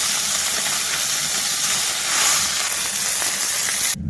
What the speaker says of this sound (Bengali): তেল কিন্তু গরম হয়ে গেছে এক একে মাছগুলো ভেজে নেবো